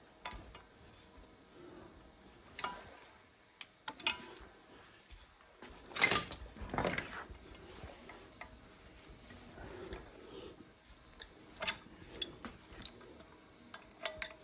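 Compressor regulator being twisted off by hand during a compressor teardown, giving faint, sparse metallic clicks and clinks, with one brief louder clatter midway, in a quiet room.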